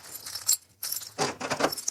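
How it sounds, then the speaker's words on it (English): A bunch of keys jangles in short metallic bursts, shaken twice with a brief pause between, close and clear with no talking. "Yes, yes I have brought the keys."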